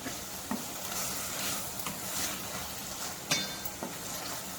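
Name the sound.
stirring white lobia beans with spices in a pan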